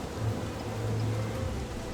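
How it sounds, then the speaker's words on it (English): Steady rain falls in a survival video game as winter approaches, a continuous even hiss with low rumbling beneath, moderately loud and with no talking. "That's why it's raining so much, by the way, because it's nearly winter in this game or something."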